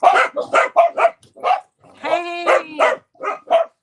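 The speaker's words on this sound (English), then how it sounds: "You probably just missed the barking dogs, right?" Several dogs bark in quick bursts, loud and close, with a stretch of higher yipping and whining in the middle before more sharp barks; no talk is heard.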